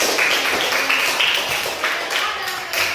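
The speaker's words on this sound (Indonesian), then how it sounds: "Tepuk tangan dulu untuk temannya." Fourth-grade elementary classmates clapping for a student in a classroom; brief, moderately loud applause mixed with chatter and voices.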